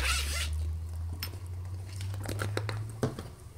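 The zipper on a small backpack is tugged open in several quick rasps, with soft fabric crinkling in between, close and fairly quiet.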